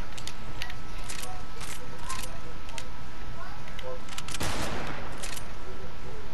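Fortnite gunfire in a video game match, a string of sharp shots and hit impacts over constant loud background game noise, with a heavier cluster of blasts near the end.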